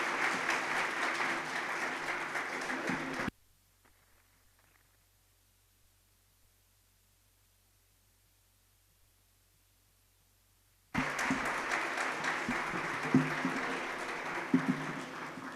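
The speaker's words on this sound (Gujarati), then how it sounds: "જોરદાર તાળીઓથી આપણે આ સન્માનને વધાવવું છે" Audience applause honouring a woman at a community ceremony in Surat: a few seconds of loud, dense clapping, then a long near-silent gap, then another burst of strong clapping.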